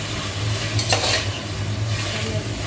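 Chicken pieces for biryani stirred in a pot, with a steady sizzle of frying under scraping and a couple of brief utensil knocks against the pot, close and fairly loud.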